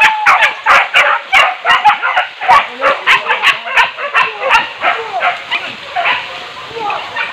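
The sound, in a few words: dog barking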